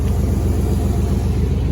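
A Chevy S10 pickup with a swapped-in V8 and a single open exhaust pipe idles with a loud, steady, deep rumble, close and continuous throughout.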